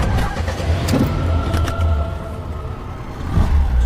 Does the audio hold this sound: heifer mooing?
no